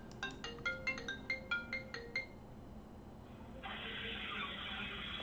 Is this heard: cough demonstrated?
no